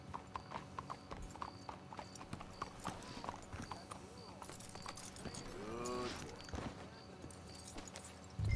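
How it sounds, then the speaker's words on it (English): Horse hooves clip-clop steadily in a video game, a hitched team moving at a walk, with people talking over the rhythmic hoofbeats. "Let's hitch your horses up ahead."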